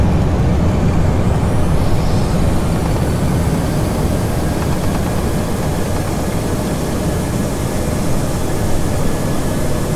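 A Boeing 737 in flight-simulator play roars under reverse thrust after landing, a loud, dense, steady engine rush with no talking.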